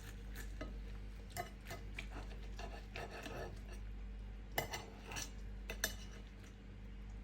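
A knife cuts into a golden, crispy roast turkey crown cooked in an air fryer, giving a series of soft scraping and crunching strokes with a few sharper clicks, close and fairly quiet.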